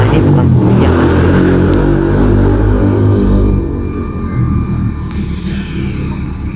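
A car in the Roblox video game revving hard, a loud, close engine roar that holds high for a few seconds and then drops to a lower steady drone.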